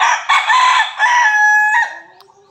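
A six-month-old chicken that has a cough crows once, loud and close, in a long strained call that trails off into quiet.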